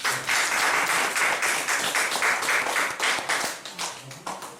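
A church congregation applauding, dense rhythmic clapping from many people in a large room, sustained and loud before tapering off near the end.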